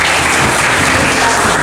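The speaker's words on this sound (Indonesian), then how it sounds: "Tepuk tangan semua ini." An audience bursts into dense, steady applause for a young instructor at a noken weaving training session for teenagers in Maybrat, Papua. The clapping is loud and close, sustained through the brief moment with no pause.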